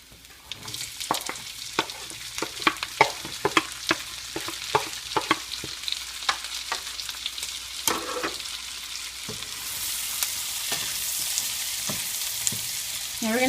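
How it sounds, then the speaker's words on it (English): Onions fry in a pan with bacon and butter while a utensil stirs them in a quick series of sharp taps and scrapes, then a steady, close sizzle takes over near the end. "Now we're going to cook these onions till they get about pretty soft, translucent"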